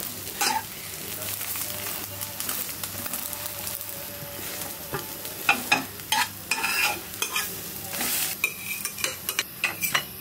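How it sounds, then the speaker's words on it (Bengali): An egg frying in a pan gives a steady sizzle, broken by sharper scraping and stirring clatters that grow louder and busier in the second half. "সেইভাবে ডিমটা ভেজে দিই"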